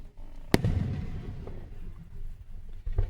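Fireworks bursting in the night sky, one sharp loud bang followed by crackling rumble and a few fainter pops, with no speech.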